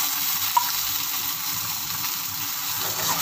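Ginger garlic paste frying with sautéed onions in a pan for an egg gravy, a steady broadband sizzle holding throughout with one small clink near the start and no talk.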